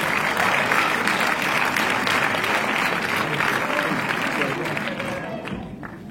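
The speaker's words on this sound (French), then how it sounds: "on peut l'applaudir" A cinema audience applauds at a film premiere, steady dense clapping filling the room before tapering slightly near the end.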